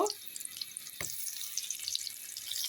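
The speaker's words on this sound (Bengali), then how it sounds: "বেগুন চারটা এভাবে ভেজে নিব, বেগুন দিয়ে দিচ্ছে, বেগুনটা ভেজে নিব।" Eggplant slices fry in oil with a soft, continuous crackling sizzle, and one brief clatter partway through.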